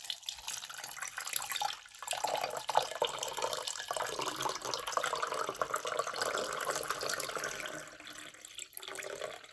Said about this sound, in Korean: 다 여기다 물을 부었어요